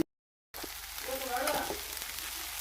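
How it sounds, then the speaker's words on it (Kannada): Poha mixed with salt, turmeric, coriander and sugar fries in a pan, a steady close sizzle with soft stirring scrapes, starting after a brief moment of silence. "ಇದು ಫ್ರೈ ಆಗೈತಿ ಇದನ್ನ ಮಿಕ್ಸ್ ಮಾಡ್ಬೇಕು ನೋಡ್ರಿ"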